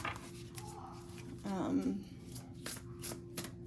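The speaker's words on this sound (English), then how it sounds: "Let's get a few more Oracle cards" Quantum Oracle cards being shuffled, a short soft riffle of card stock lasting about half a second, close and quiet, with a voice speaking around it.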